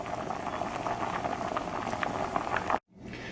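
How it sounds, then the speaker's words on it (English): A pot of water is at a rolling boil on a stove flame, bubbling and popping steadily and close up for several seconds before cutting off abruptly into a quieter hum. "The water is boiling"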